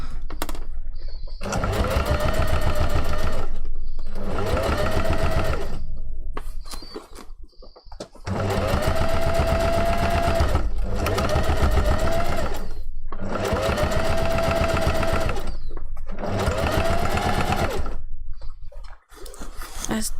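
Loud, close sewing machine stitching the seam of a fursuit fox tail in several long runs separated by brief pauses, each burst a fast, even whirring rattle.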